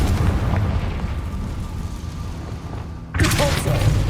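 A Confringo spell explosion in Hogwarts Legacy: low rumbling combat noise, then a sharp bright burst near the end, with a voice shouting the spell name.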